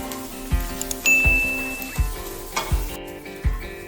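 Chopped onion sautés in a pan with peanuts, green chili and ginger-garlic paste for broad bean rice, a loud steady sizzle with rhythmic metallic taps of a stirring spoon striking the pan.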